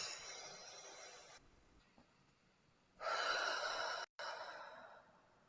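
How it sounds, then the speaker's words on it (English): A slow, deep breath is drawn in and let out close to the microphone, a soft airy inhale followed after a pause by a louder, rushing exhale, with no talking. "Deep breath."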